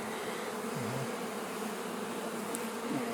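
Honey bees buzzing on hive frames while a hive is being split, a steady close droning hum from many insects throughout, with no voices.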